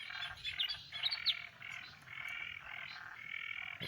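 Frogs call repeatedly beside a rain puddle after a storm, their chirping croaks overlapping in an irregular chorus with birdlike high notes. The calls sound close and moderately loud against a quiet outdoor background.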